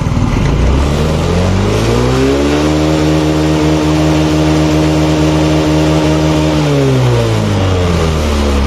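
Yamaha Mio J motorcycle engine, close and loud, rising from idle to a sustained high-RPM whine, holding steady, then dropping back toward idle, with no talking.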